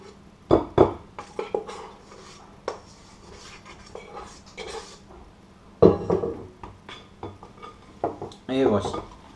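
Spatula scraping and tapping against a bowl while folding the last of the meringue into macaron batter, in short irregular bursts with a few sharper knocks, close and fairly quiet.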